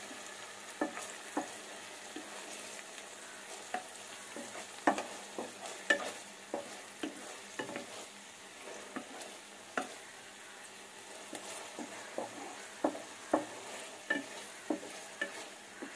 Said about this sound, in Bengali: আমি সসগুলো ভালো করে মিশিয়ে মোমোর সঙ্গে আমি এটাকে ফ্রাই করে নিচ্ছি